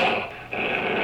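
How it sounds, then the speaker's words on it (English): A dog growls in a sound effects recording, a steady low rumbling snarl that runs continuously at close range with a brief dip midway, with no one talking. "This is some dog growling."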